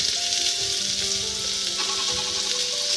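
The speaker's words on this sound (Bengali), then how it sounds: "একটু ভালো করে নাড়াচাড়া করে ভেজে নেব সবজিগুলো।" Vegetables sizzle steadily in a hot pan with cardamom, bay leaf, clove and crushed black pepper for chicken soup, a continuous close frying hiss with faint scraping from stirring throughout.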